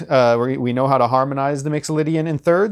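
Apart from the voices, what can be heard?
None of the usual background noises is heard.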